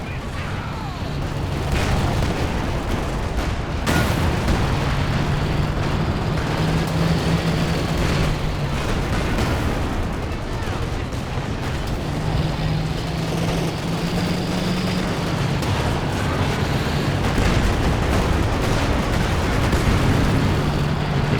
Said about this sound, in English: Artillery there from the KT dropping down.